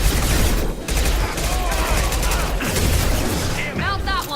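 Dense, sustained gunfire from Blue Suns and Orcha fighters in a shooter video game: overlapping rapid shots and bursts fill the whole stretch at close range, with faint voices mixed into the battle din.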